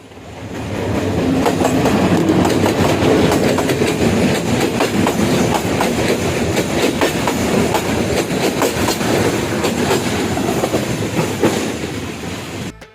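A train rumbles past nearby in Sreemangal with steady clattering wheels on the rails, loud and continuous, fading slightly at the end.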